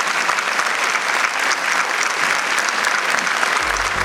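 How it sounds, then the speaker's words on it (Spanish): An audience gives a steady, dense round of clapping for four participants at the close of a psycho-oncology panel. The applause fills the room evenly throughout, with no voices over it. "un fuerte aplauso para los 4 participantes"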